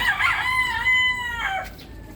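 A rooster crows nearby in one drawn-out call with a rising then falling, slightly wavering tone, fading quickly afterward among farm chickens.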